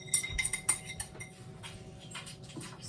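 A knife scraping and clinking against a bowl while stirring blondie batter, a few sharp metallic taps near the start, then softer scraping strokes, close and fairly quiet with no talk.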